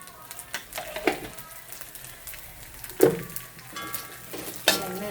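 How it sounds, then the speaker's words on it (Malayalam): Grated coconut fries in oil in a pan and is stirred, with a faint, steady sizzle broken by a few sharp spoon scrapes and clinks against the pan. "എണ്ണ ഒഴിച്ചിട്ട് മൂപ്പിച്ചെടുക്കാൻ മതി"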